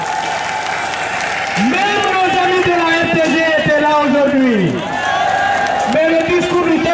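A crowd at an opposition leader's speech in Guinea applauds the press, sustained dense clapping that swells and holds, with a loud amplified voice speaking over it in long sweeping calls.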